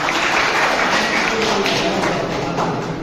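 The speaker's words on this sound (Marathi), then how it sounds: "जोरदार टाळ्या वाजवायच्या." An audience at a school alumni gathering claps in a dense, steady burst of applause heard close and loud, continuing evenly without any talk over it.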